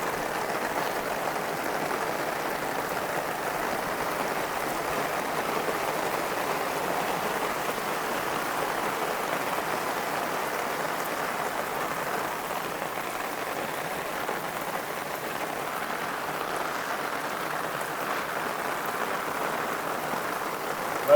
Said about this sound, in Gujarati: વરસાદ આજે તો વરસાદ આવી ગયો ફાઇનલ જોરદાર.